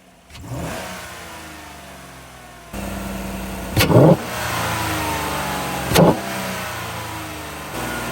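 A truck engine fitted with a newly installed cold air intake starts up and settles into a steady idle, then is revved sharply twice, each blip loud and close, with no voices over it.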